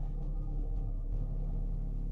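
Renault Espace with a small 1.2-liter engine, idling or pulling gently while the whole car vibrates, a steady low rumble heard from inside the cabin.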